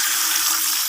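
Water pours steadily from a tap into a container to soak grape cuttings, a continuous close splashing gush with no pauses.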